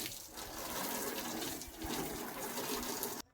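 Water gushes and splashes steadily while a bike is washed, a continuous close wash of spray with a brief dip midway before cutting off abruptly.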